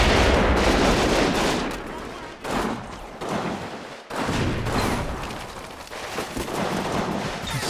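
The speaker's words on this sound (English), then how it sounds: "Lots of fire coming in from the troops in the apartment block" Dense gunfire in a Combat Mission: Stalingrad battle, with German MG34 machine gun bursts and rifle fire from troops in an apartment block, loud and continuous, rising and dipping in sustained volleys.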